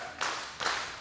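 A wrestling match crowd claps in rhythm, two broad, loud bursts of massed clapping about half a second apart that fill the hall.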